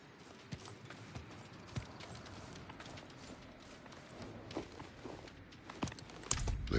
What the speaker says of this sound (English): Let's get the horses ready.